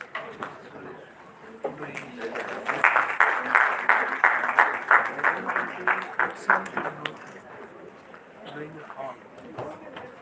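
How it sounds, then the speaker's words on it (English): An audience honouring a keynote speaker at a dental event bursts into rhythmic clapping that swells, holds for several seconds and then fades, heard fairly close in a modest room. "Please give sir a thunderous round of applause."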